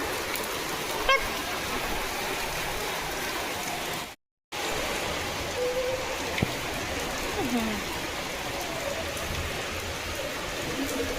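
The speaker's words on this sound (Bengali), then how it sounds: "তখনও কিন্তু পুরোপুরি বৃষ্টিটা সারেনি, মানে থামেনি।" Steady rain pouring outdoors at a village home, a dense even hiss of drops on surfaces, loud and continuous apart from a brief dropout, with a faint distant honk or call at one point.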